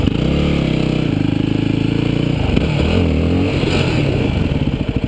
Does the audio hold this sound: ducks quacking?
no